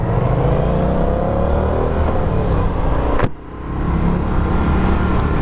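Loud, continuous engine roar from a 2022 Indian FTR R Carbon motorcycle on a demo ride, a steady rumble with a brief dip and gear-change break near the middle before the drone picks up again.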